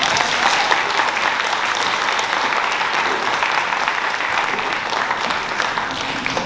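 A dinner audience at a Juniata College Diwali celebration applauds a speaker, with dense, steady clapping from many hands filling the room for the whole stretch at an even, moderately loud level.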